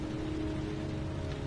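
Steady rain falls in the video game Heavy Rain, a dense, unbroken hiss of drops spattering on surfaces with a low background hum, loud and constant with no talking.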